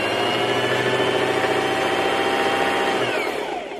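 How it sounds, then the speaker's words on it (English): Singer Promise sewing machine running steadily while winding a bobbin, a continuous close mechanical whir and hum that holds even, then slows and winds down at the end as the winding stops. "The most common problem I face is when my bobbin is on the bobbin winding spindle and we're halfway through winding the bobbin and it stops."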